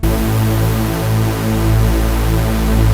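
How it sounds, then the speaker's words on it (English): Dense, constant synthesizer noise hisses loudly for the whole stretch, with a low droning buzz underneath and a slight swell midway. "we need some white noise on number 4. So white noise."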